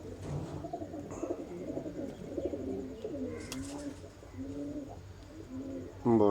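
Sialkoti pigeons coo steadily in a loft, with soft, repeated rolling calls close by. Someone speaks briefly near the start, and a loud burst of noise cuts in at the very end.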